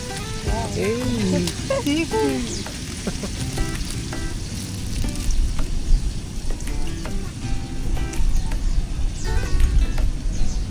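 Food sautés in a pan at a beach campsite, a steady crackling sizzle that runs the whole time and grows a little louder toward the end, with voices briefly over it near the start.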